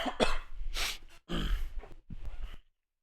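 A person with a sudden throat irritation coughs and clears their throat close to the microphone in a few sharp, separate bursts before falling quiet.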